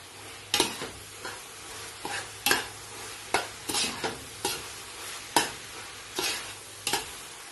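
King prawn chow mein being stir-fried in a pan, a soft steady sizzle punctuated by about a dozen sharp scraping clanks of a utensil tossing the noodles at an uneven rhythm.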